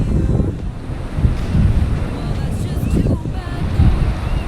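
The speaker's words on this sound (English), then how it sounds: "The wind's coming from the Antarctic, straight off a glacier." Cold wind blowing in off the sea near Victoria on Vancouver Island, roaring steadily across the microphone with surf churning beneath it, loud and continuous throughout.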